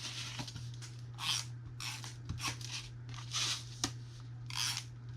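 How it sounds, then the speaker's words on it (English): A tape runner dragged along cardboard box tabs, giving several short rasping, rubbing strokes in an uneven rhythm over a steady low hum, close and moderately quiet. "So I am just going to run some tape on all of my tabs."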